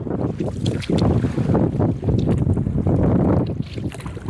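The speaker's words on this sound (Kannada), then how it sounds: "ಇವತ್ತು ಗಾಳಿ ಬಾಳ ಐತಪ್ಪ" Strong wind by a river buffets loudly and continuously, with gusts rumbling and roaring against the microphone throughout.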